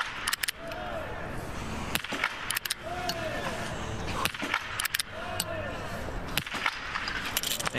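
Biathlon rifle shots at a shooting range during a women's pursuit race in Ruhpolding, a series of sharp, fairly close cracks spread irregularly through the clip over constant crowd and commentary noise.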